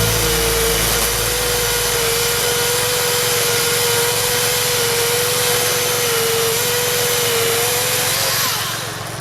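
A loud, steady motorized buzz with a grinding rasp runs continuously up close, like a saw chewing through wood, fading slightly at the very end.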